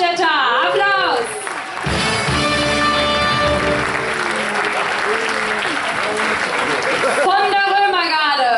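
Audience applause at the Cologne carnival proclamation of the children's triumvirate, a loud, dense burst of clapping sustained for several seconds with music and voices underneath, fading slightly at the end.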